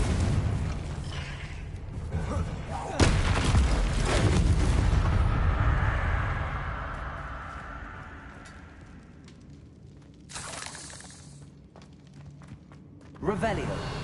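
Confringo fire-blast spell explosions in Hogwarts Legacy: a couple of sharp booming blasts with rumbling decay, a long swelling fiery whoosh in the middle, then another burst near the end, loud and close.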